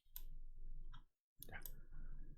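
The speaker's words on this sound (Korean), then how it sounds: "클릭을 한번 해 보겠습니다" Computer mouse clicks while working in print design software: a couple of short, sharp clicks alone against quiet background hum, with a brief silent gap between them.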